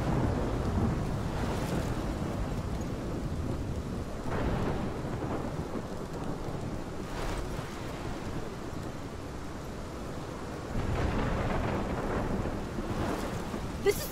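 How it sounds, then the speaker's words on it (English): A thunderstorm in the video game Life Is Strange brings steady heavy rain and wind under deep rolling thunder that swells several times, loud and continuous, with no voices. "This is my storm."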